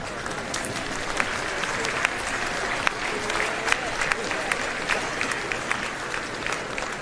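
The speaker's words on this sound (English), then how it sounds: "Let's give them an applause." Graduates at the John Jay 2024 graduation stand and give their parents a long, steady, dense applause from a large crowd, with scattered voices mixed into the clapping.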